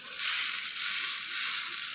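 Dried red chillies sizzle in hot tempering oil for a vallarai keerai (Centella asiatica) chutney, a steady bright frying crackle that swells early and holds close and loud without any talking.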